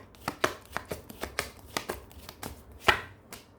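Tarot cards shuffled and drawn from a deck, a quick series of crisp paper snaps and flicks, with one louder slap near the end, close and clear with no talking.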